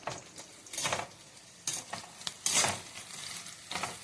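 Onions frying in a pan for a Bengali kolmi shak lunch, with gentle hiss broken by several louder scraping stirs, close and steady, no talk.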